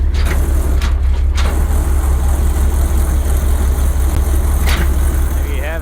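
A GMC 478 big block V-6 engine idles on and on with a steady, loud, low rumble, heard close up as the truck sits by the hole it has just been driven out of.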